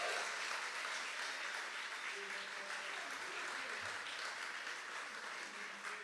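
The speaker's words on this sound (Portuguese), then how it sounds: "Aplauda Ele com muita alegria" Church congregation applauding God with joy, a continuous crowd clap that stays fairly distant and soft throughout, with faint voices blended underneath.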